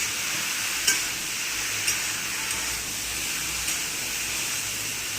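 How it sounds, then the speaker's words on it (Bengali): Chopped eggplant and carrot frying in a pan under a constant hiss, with a few sharp knocks of a spatula scattered over it, close and steady, no speech. "সবজি কেটে রাখাগুলো দিয়ে দেওয়া হলো। এবার এটাকে ভালোভাবে নাড়তে হবে।"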